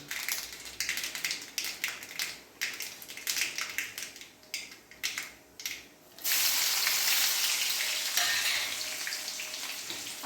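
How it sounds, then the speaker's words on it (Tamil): Garlic fries in oil for a rasam tempering, with bursts of crackling sizzle and stirring at first, then a dense, steady sizzle that swells louder and continues, close up with no talk. "அந்த அளவுக்கு நல்லா பூண்டு செவக்க விட்டு நல்லா எடுத்து ரசத்தை உள்ளே ஊற்றிட்டோம்னா சூப்பராக இருக்கும்."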